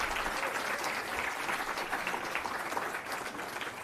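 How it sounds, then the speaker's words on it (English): An audience at an Illinois Democratic Party breakfast gives sustained applause after a senator's speech, a dense, steady wash of clapping that fades slightly toward the end. "So I want to give a little round of applause here to Ed Smith, one of the real leaders."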